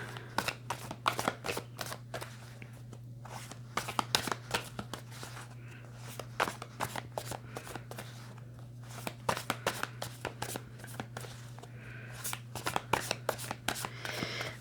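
Tarot cards being handled and shuffled up close, a long steady run of quick crisp riffling flicks and soft slides, with a low steady hum underneath and no talk.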